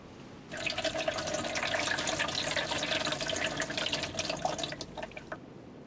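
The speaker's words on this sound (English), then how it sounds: "I'll use the water from the cooler to fill up the chamber pot." Water poured from a cooler into a chamber pot in the video game Evil Days of Luckless John, a steady splashing, trickling stream that runs for several seconds and then stops abruptly.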